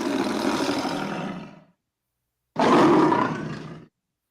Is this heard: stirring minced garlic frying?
no